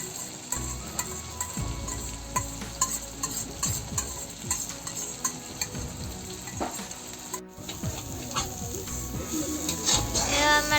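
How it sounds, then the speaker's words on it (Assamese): Meat fries in a kadai for a Bihu meal with a steady sizzle, while a utensil scrapes and clatters against the pan in irregular strokes as it is stirred, close up. "আমাৰ কেৰাহীত মাংস পৰি গ'ল"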